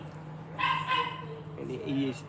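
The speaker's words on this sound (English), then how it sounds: "he is inside barking" A dog named Butch barks inside a house, a few short close barks and yips, with a person talking over them.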